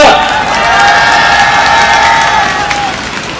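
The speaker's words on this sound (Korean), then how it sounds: "여러분, 고생하시는 젊은 경찰분들 위해 격려의 박수 한번 부탁드리겠습니다" A crowd cheers and applauds for young police officers working late, a loud, continuous wash of voices and clapping with a sustained whistle-like tone running through most of it, no speech rising above.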